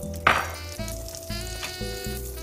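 Butter sizzling in a frying pan while an omelette cooks, a soft steady sizzle close by over a low rhythmic hum, with a brief clatter near the start.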